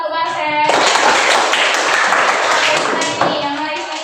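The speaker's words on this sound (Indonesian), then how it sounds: "Jadi tepuk tangan untuk Marcel." Students clapping in a classroom, a loud burst of many hands that starts abruptly after a brief voice and continues steadily, with children's voices mixed in.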